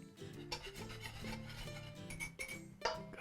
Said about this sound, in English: Whisking away.